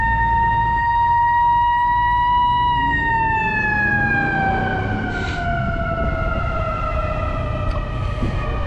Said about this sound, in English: What those sirens mean is it's a warning coming through. Emergency.